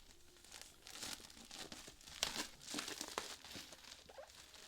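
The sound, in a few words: book being unwrapped from its plastic seal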